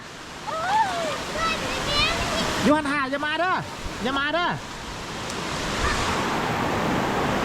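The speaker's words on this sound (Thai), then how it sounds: "อ่านี่น้ำตกเลย" Tat Sae waterfall near Luang Prabang gives a steady, broad rush of falling water throughout, with excited voices calling out over it.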